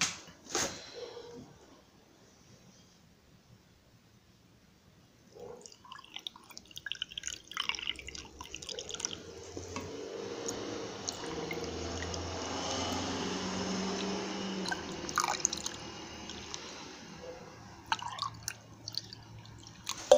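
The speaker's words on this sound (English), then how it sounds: "All right, I got that all filled up with water, each one." Water trickles and drips while the valve ports of a removed Hyundai cylinder head are filled for leak testing; after a quiet start, a continuous soft pouring and splashing builds, with scattered clicks and drips, close and fairly faint.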